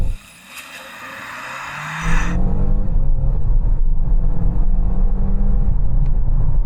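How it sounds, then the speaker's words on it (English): A DS9 sedan accelerates hard from 0 to 60 in sport mode, heard from inside the cabin. The engine drone builds steadily, then jumps to a louder, rising roar about two seconds in and holds strong to the end. "I don't know if it's the noise from the engine or the fact that the gear changes in sport mode are quite pronounced"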